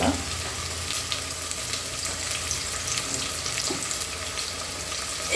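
Curry leaves and onion fry in hot oil in a pan during the making of a Kerala chicken biryani, a steady, even sizzle that runs without a break throughout.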